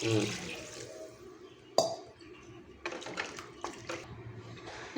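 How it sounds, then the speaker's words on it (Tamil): Water splashes and trickles into a cooking pot of mutton kulambu in short bursts, with a brief clatter partway through, close by and moderately loud. "இப்போ இதுக்கு தேவையான அளவு தண்ணி ஊற்றிக்கலாம்"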